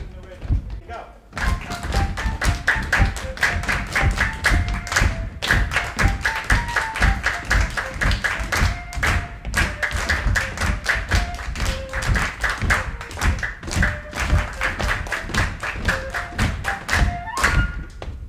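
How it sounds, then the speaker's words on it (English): A group clapping a rhythm together in a music lesson, steady repeated claps close by. Sung or spoken tones sound over the clapping throughout. "You guys over here are clapping the rhythm."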